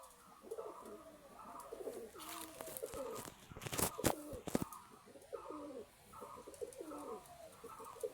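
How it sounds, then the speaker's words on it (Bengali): A pigeon cooing softly in repeated low phrases, fairly quiet, with a few louder clattering knocks partway through and no speech. "দেখুন পায়রাটা কত সুন্দর।"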